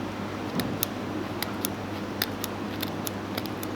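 Fishing trace wire being snipped for a shark trace: quiet, sharp metallic clicks and snips at irregular intervals over a low steady background hum.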